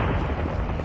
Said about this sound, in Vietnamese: họ được quân giải phóng tiếp đón bằng những trận pháo kích 130mm vô cùng dữ dội